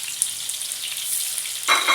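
Fresh chilies frying in a hot pan of oil, a steady close sizzle that briefly flares louder near the end as they are stirred.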